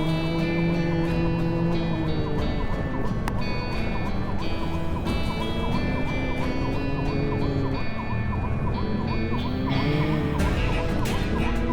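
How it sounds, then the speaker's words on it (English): A siren wails continuously, rising and falling in repeated cycles, loud and steady from start to finish. "We need a better siren."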